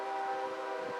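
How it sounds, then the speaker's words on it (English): CSX freight train horn on the Indianapolis Line at Fortville, a sustained, even tone with layered harmonics from a distance, holding steady and moderately loud with no talk over it. "So I can already hear the horn"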